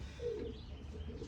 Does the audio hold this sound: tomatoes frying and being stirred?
no